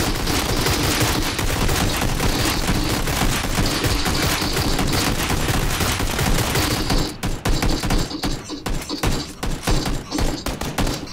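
Heavy gunfire in the battle-royale game PUBG: a relentless, loud fusillade of rapid shots fills the first seven seconds, then thins into scattered, separate bursts.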